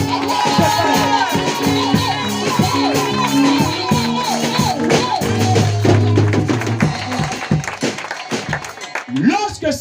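A church congregation cheering and acclaiming, a dense mass of loud voices and shouts with tonal singing-like calls, continuous and close throughout.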